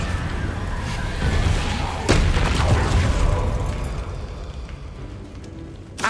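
Repulsor spell cast in Hogwarts Legacy, a heavy booming blast with a thudding impact, loud and close, followed by a rumbling decay and lingering debris clatter.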